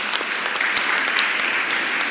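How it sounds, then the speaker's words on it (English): Dense audience applause at a public hearing, steady close clapping from many hands that holds evenly throughout without voices standing out. "Let's give them a round of applause."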